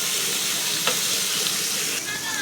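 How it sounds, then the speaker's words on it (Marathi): Paneer pieces flipped and lightly roasted in a hot pan give off a steady, close sizzle with faint scraping touches, continuous and alone. "आता आपण हे पनीर पलटून पण शेकून घेऊया थोडंसं"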